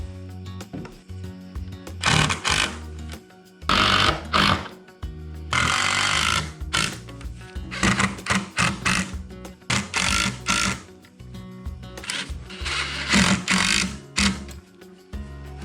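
A power drill bores pocket holes into wooden framework for a range vent hood, coming in several loud, high-pitched whirring bursts of about a second each, separated by short pauses.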